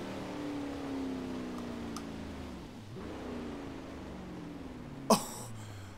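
A 1500 hp Formula Drift car in the racing game Forza Horizon 4 downshifts, its steady engine drone stepping down and up in pitch, with a sharp, loud pop near the end.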